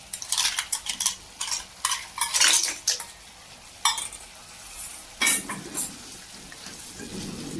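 Clams and mussels tipped into roasted masala in a pan for a shellfish curry: shells clatter and rattle against the metal in several sharp bursts, with sizzling in between and a softer frying hiss at the end.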